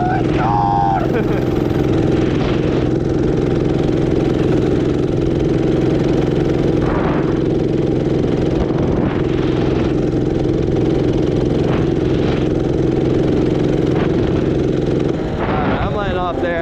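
A 212cc engine swapped into an Axis M200 minibike runs loudly and steadily close by, with a brief rev near the start and small swells in pitch throughout.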